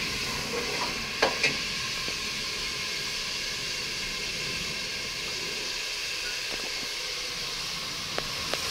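Masala gosht, spiced meat being cooked, sizzles in a pan with steady frying hiss and a few stirring clatters, fairly quiet and continuous with no talking.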